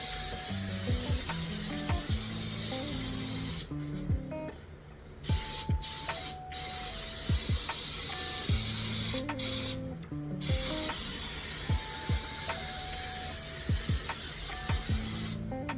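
An Eastwood Concourse spray gun lays black AutoPaint HQ car paint onto the door jambs of a car in a steady, loud hiss that runs almost without a break, with short pauses near the middle.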